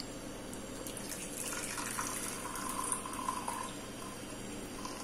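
Hot water running steadily into a Lyor bamboo thermos bottle, a continuous splashing pour lasting several seconds, close and moderately loud with no voices.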